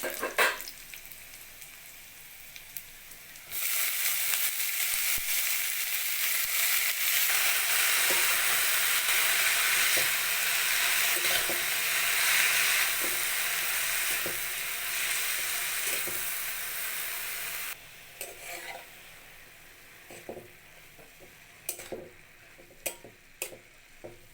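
Punarnava greens tipped into a pan of frying garlic and onion set off a loud, sustained sizzle that fades after about fifteen seconds, leaving quieter crackles and repeated spatula clicks and scrapes as the leaves are stirred.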